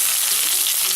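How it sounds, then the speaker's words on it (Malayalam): Green chillies and curry leaves hit hot oil in a pan for a Kerala fish curry, a loud, bright, continuous sizzle and crackle that carries through the whole brief moment. "പച്ചമുളകും നമ്മൾ അതിലേക്ക് ഇടുകയാണ്"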